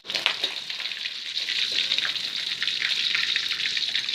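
Smoked fish frying in a pan of hot oil for a sambal dish, a steady bright sizzle with crackling pops running the whole time, close and fairly loud with no talk.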